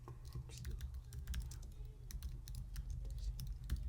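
Soft, quick keystrokes tap on a computer keyboard in irregular bursts, faint and close against a low background hum.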